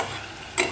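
Sesame paste frying in oil being stirred in a pan, a brief soft sizzle with a quick scraping stir near the end, close and quiet.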